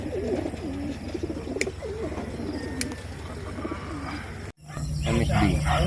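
A bird, likely a pigeon or dove, calls repeatedly in the open at a Mindoro racing-pigeon release, with wind and crowd noise around it; the sound cuts out briefly, then resumes louder.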